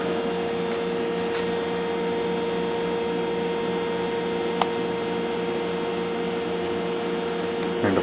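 A milling machine cutter runs over the shank of a dragon ring, giving a steady mechanical whine with a constant hum underneath. The level stays even throughout, with a few faint ticks.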